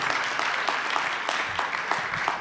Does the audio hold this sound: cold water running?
no